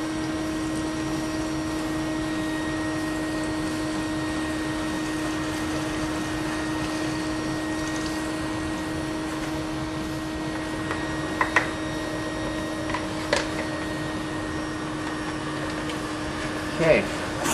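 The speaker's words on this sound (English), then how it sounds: "just let that vacuum pull that through" Wet-dry vacuum pulling sanitizer through an air conditioner drain line, a steady close motor drone with a constant tonal whine, a few short sharp clicks late on, no talk over it.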